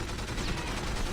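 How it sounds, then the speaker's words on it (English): A bazooka rocket launcher fires in the 007 From Russia With Love video game, a dense, continuous rumbling blast that fills the short moment without pause. "Bazooka!"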